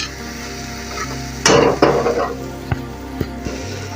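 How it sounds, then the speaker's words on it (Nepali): Masala frying in a pan for bhaji, a quiet sizzle broken by a loud scraping stir, followed by several sharp utensil knocks against the pan. "भुटिसक्यो अब यो मसला पनि भुटिसक्यो।"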